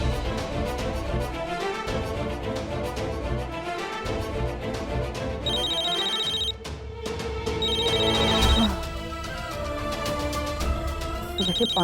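Nishi's mobile phone rings in repeated electronic ringtone bursts, moderately loud, laid over continuous background music that runs throughout.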